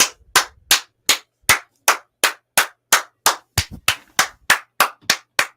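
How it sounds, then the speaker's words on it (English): Stadium crowd at a Newcastle United home match applauding as Bruno Guimaraes is substituted, rendered as sharp, evenly spaced claps, about three per second, loud and echoing, with no voices over them. "Got a standing clap."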